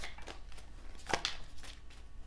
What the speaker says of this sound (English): So I'm just going to give this another little shuffle.